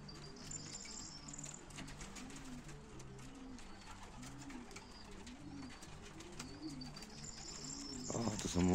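Young pigeons in a loft coo in soft, repeated rolling phrases at a steady pace, with light chirps and scattered clicks around them and a louder rustle near the end.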